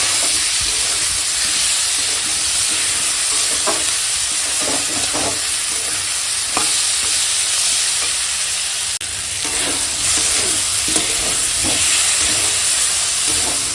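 Spice masala with turmeric powder and salt is stirred and fried in a pan, a steady broad sizzle running throughout with occasional scraping stir strokes, close and loud with no talk.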